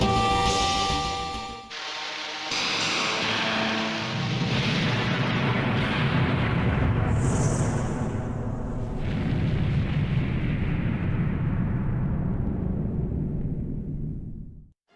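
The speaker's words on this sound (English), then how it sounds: "you're treated to a giant explosion of Reactor 1." A massive explosion of Reactor 1 in Final Fantasy VII, a long roaring blast with dense low rumble and crackling debris, loud throughout and slowly fading away at the end.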